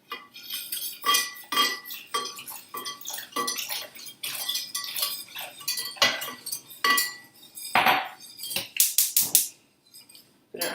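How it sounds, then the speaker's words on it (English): A whisk clinks and rattles rapidly against a bowl while milk is beaten into an egg and sugar mixture for Italian pasticciotti pastries, bright repeated metallic taps in short bursts, close and clear with no talking. "And then you will whisk in"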